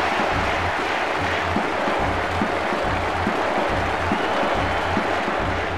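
A stadium crowd in International Superstar Soccer 98 on Nintendo 64 roars and applauds after a goal, a dense, loud, continuous wash of cheering with a low rhythmic pulse beneath.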